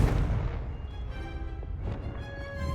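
Blast from the Confringo spell in Hogwarts Legacy on PS5, a heavy booming burst at the start that fades into a sustained rumbling, ringing tail, with no talk.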